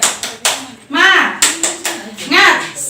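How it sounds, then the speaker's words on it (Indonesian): A group of women at a training session claps a rhythmic cheer, sharp close claps in a quick patterned beat alternating with voices chanting along. "kita tepuk semangat dulu ya ibu-ibu"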